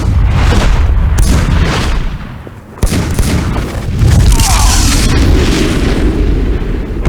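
Weapons fire and explosions in the Superman Shadow of Apokolips video game, loud continuous booming and rapid blasts with a brief dip before the barrage resumes.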